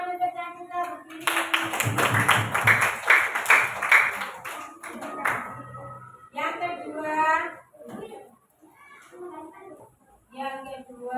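A classroom of children bursts into a loud round of clapping for a student named Cantika, lasting about four seconds before children's voices and talk take over, with a few scattered claps and chatter afterward.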